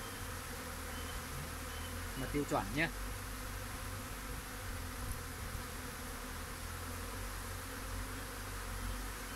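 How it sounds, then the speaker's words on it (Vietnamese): Honey bees buzz around improved tiered hive boxes kept for longan-season honey harvesting, a dense steady drone close by. A person speaks briefly over the hum. "Đây là những cái đàn ong giống thí điểm cho khai thác mật"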